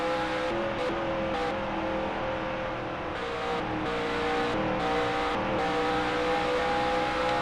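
IROC race cars lap Homestead in a sim racing broadcast, a steady, loud multi-engine drone with sustained high revs and slight pitch shifts as cars hold speed, no talk over it.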